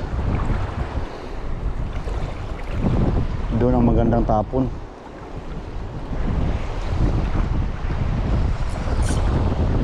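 Strong wind buffets the microphone outdoors beside the water, a constant low rumbling roar with waves in the background, while a person speaks briefly in the middle.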